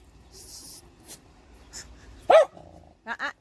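A dog barks loudly at people walking past a garden, a single sharp bark followed by two quicker barks, near and clear, with a voice heard faintly before them.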